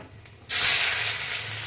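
Spices dropped into hot oil for an Indian tadka tempering burst into a loud, close sizzle that starts abruptly and holds as a steady bright hiss.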